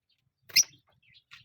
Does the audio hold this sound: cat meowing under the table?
no